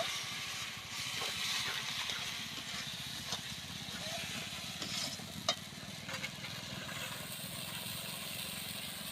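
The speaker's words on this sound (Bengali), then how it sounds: "এবার গুলে রাখা মশলাটা দিয়ে দিচ্ছি আবারও ভালোভাবে কষিয়ে নেব" Mutton being sautéed with a mixed masala paste and slit green chillies, producing a faint, continuous sizzle with scattered light clicks of stirring over a low background hum.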